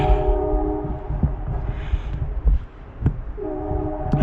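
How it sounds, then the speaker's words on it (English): Train horn sounding in the distance, steady multi-tone blasts held across most of the span with brief gaps, heard outdoors during a walk with traffic-like rumble underneath. "And so we hear a train in the distance."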